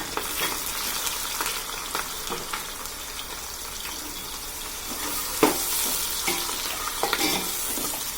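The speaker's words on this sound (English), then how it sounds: "Now I'm adding up the big onion." Sliced big onions frying in a pan for mutton biryani, a steady close sizzle with a spoon stirring and scraping through it, and one sharper knock partway through, with no voices.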